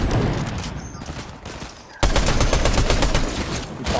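Rapid gunfire bursts from a Fortnite Zero Build squad match, dense and continuous, growing louder and more intense partway through, with no voices over it.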